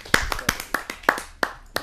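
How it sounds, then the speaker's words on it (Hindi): An audience at a Hindi kavi sammelan poetry gathering welcomes a poet with sparse, uneven handclaps, about nine distinct claps, fairly close and moderately loud. "आप सबकी जोरदार तालियों से।"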